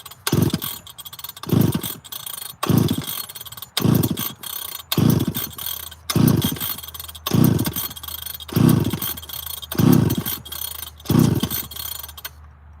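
A chainsaw with a backwards kill switch, spitting fuel out of its muffler, sputters and fires in loud, evenly spaced bursts about once a second, with no voices.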